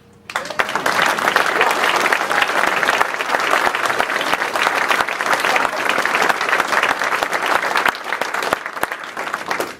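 Loud, sustained crowd applause at an Iowa presidential caucus event, starting abruptly and continuing densely for nearly ten seconds with scattered sharper claps, no speech over it.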